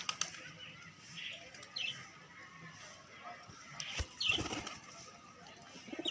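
Kagzi pigeons at a home loft give soft, faint coos while wings flap in brief bursts, with scattered quiet clatter in the background.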